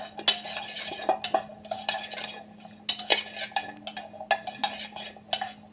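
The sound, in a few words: mixing bread omelette ingredients in a bowl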